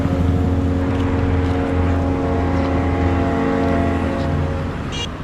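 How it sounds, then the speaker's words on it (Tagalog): A 150 cc motorcycle with a loud, noisy exhaust runs steadily nearby on a street, giving a continuous droning rumble that holds level throughout. "napansin natin na medyo maingay yung tambutso niya"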